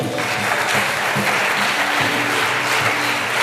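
A church congregation applauds loudly and steadily, the close, dense clapping filling the space with no voices on top.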